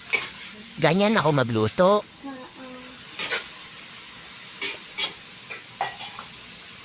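Food stirred in a sizzling frying pan, a soft steady sizzle with faint scraping strokes running under a man's speech early on, then brief clinks and stirs.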